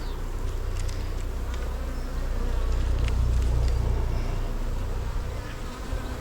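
Honeybees buzz steadily around an open hive during an inspection, a dense continuous drone that stays loud and close throughout, with occasional faint clicks and rustles of handling.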